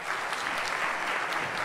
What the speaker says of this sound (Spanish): A ver, aplauda que va la gente que va al psicólogo.